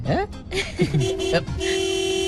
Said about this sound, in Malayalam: ഈ റോഡിലൊന്നും ഒരു ഈച്ച പോലും ഇല്ല, പിന്നെ എന്തിനാ ഈ ഹോൺ അടിക്കണേ?